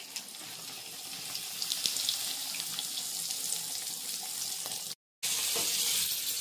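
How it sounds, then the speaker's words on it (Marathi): Semolina-coated fish sizzling on a griddle pan, a steady hissing fry with small pops, close and continuous apart from a brief cut near the end. "आणि आता तळायची."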